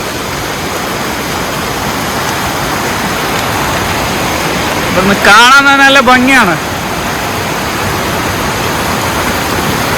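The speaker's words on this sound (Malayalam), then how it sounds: "വെള്ളത്തിന്റെ ശബ്ദം കേൾക്കുന്നില്ലേ" Steady rushing of a flowing stream fills the whole stretch, with a person speaking briefly over it partway through; in Malappuram district, Kerala.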